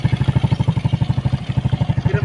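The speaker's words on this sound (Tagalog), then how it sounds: "Ayan, naandar na po. Ayan, nakikita nyo, smooth na po ang andar dyan." A car engine that has just had its engine block replaced after running dry of oil idles steadily up close, with an even, rhythmic chug and a faint mechanical clatter throughout.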